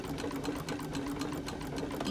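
A 1923 Singer antique treadle sewing machine, freshly oiled, runs at a fast pace with a steady, quiet whirring and rapid rhythmic needle clicks, continuous and close throughout.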